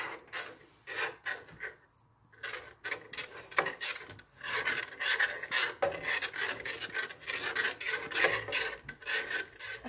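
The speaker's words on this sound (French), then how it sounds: "on va venir mélanger avec une cuillère" A spoon working through crêpe batter in a bowl makes continuous close scraping and rubbing strokes, dense and rhythmic with one brief pause, with no voices.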